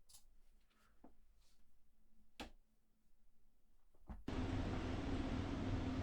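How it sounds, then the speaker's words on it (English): Scattered quiet knocks and clicks, then a sudden steady broadband whoosh and hum from a recorded washing machine, loud and continuous, set within a music piece. "That's the sound of the washing machine there,"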